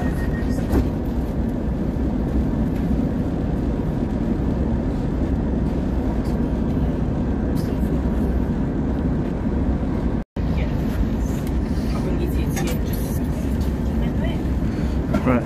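An East Midlands Railway Class 170 diesel unit rumbles past, a steady, loud low-frequency roar with engine drone holding throughout, briefly cut by a gap near the end before the noise resumes.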